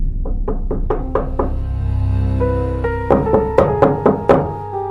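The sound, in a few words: knocking on a door, horror story sound effect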